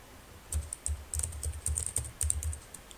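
Quick, light keystrokes on a computer keyboard as an address is entered into a web browser, a close and steady run of clicks lasting a few seconds with no talking.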